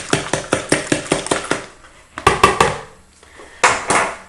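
Spoon knocking against a bowl while mixing sugar into a gluten-free loaf mixture, a quick run of sharp rhythmic clacks, a pause, a short burst of three more, then a final scrape.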